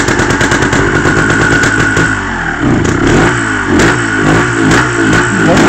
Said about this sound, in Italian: Metti in moto, sentiamo che bella carburazione che c'ha.